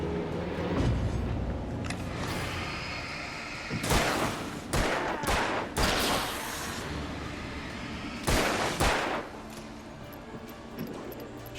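Gunfire in the Alan Wake video game: several sharp, loud shots in quick bursts, with a cluster around the middle and another pair near the end, over a steady tense background.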